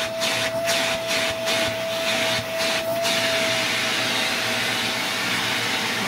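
A Eureka Capture vacuum cleaner runs on a rug with a steady motor whine, broken early on by several rhythmic brushing passes before settling into a constant drone.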